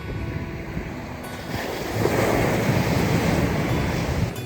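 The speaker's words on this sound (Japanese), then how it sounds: "乗りやすそうな波ですもんね" Ocean waves at Nakayama beach on Tanegashima wash in as a broad, steady surf rush that swells louder partway through, with wind buffeting the microphone throughout.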